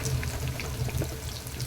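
Two blended tomatoes, ground to a paste, pour into a hot pan for a Tamil chicken gravy, a steady wet, gurgling flow that stays close and even throughout, with no talking.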